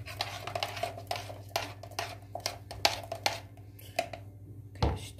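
A spoon stirs sugar into coffee, faint clinks and scrapes against the cup in quick irregular taps, close but quiet, with a low steady hum beneath.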